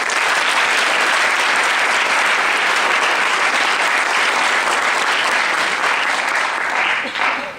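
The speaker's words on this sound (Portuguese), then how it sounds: "eu gostaria de pedir uma salva de palmas para eles" Sustained, loud applause from an audience at a market and economics talk event, a dense steady wash of clapping that fills the whole stretch and only starts to thin near the end.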